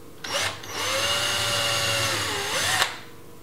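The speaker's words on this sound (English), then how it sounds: "I want to use a drill with a drill bit just to make sure that I pre-drill the holes" A power drill with a bit pre-drills screw holes for a latch on a wooden dog gate, a close, steady high whine running about two and a half seconds between short start and stop bursts.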